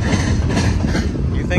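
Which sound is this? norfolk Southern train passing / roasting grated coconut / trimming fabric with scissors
norfolk Southern train passing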